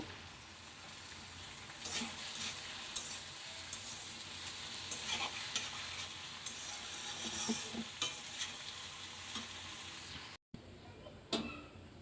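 Okra bhaji stir-fries in a pan, soft sizzling under repeated scraping and clinking of a spatula against the metal, steady and close, with a brief cut to silence near the end before stirring resumes.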